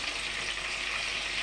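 Food fries in a pan with a steady, dense hiss of sizzling oil, even and close throughout the short moment, with no other sounds.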